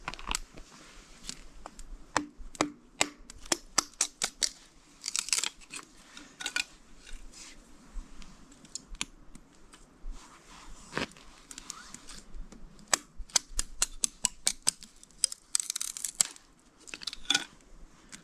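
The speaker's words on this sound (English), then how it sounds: "I do have a fair amount of firewood with me today, so it should be a fairly busy fire." Firewood fire crackling and popping, with irregular sharp snaps scattered over a quiet background, close by and fairly faint, with no talking.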